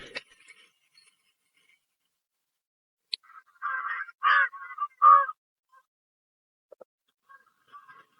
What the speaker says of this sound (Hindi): ये कौवे उड़ रहे हैं यहाँ पे।